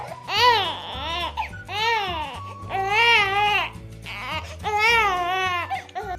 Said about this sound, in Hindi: थोड़ी दूर घूमने के बाद उन्हें एक बच्चे की रोने की आवाज सुनाई देती है।